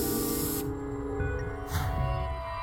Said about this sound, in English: let's take out the luminol and start spraying things